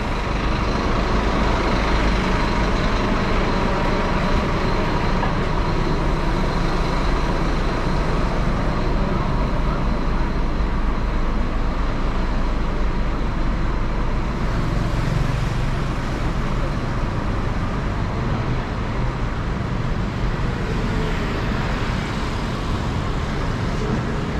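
City bus idling and stopping amid Kuala Lumpur street traffic, a steady dense rumble of engines and road noise throughout with faint hiss like an air brake, no clear speech.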